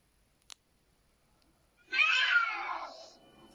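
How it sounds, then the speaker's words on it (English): Two cats fighting outside in front of a porch at night: after a quiet stretch with a faint click, a sudden harsh yowling, hissing screech erupts and trails off raggedly. "she heard the noise of 2 cats fighting just in front of her porch"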